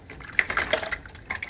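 Canned peaches with their syrup are poured into a pot of melted butter, giving close, wet glugging and splashing plops in quick uneven bursts, with no talking.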